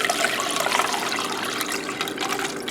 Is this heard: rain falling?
no